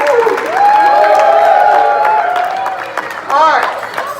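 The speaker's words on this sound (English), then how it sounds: "Give Paul a great big hand." Audience at a Cub Scout Pack 554 Blue and Gold Banquet applauding and cheering after a magic trick with linking rings, with a host's voice speaking loudly over the sustained clapping throughout.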